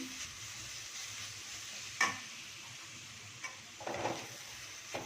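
Milk is poured into grated carrot and pumpkin frying for halwa in a pan, giving a faint, steady sizzle with soft stirring scrapes and a couple of light clinks, quiet overall with no talking.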